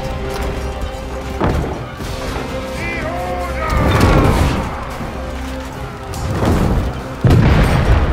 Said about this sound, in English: What we have destroyed the gate!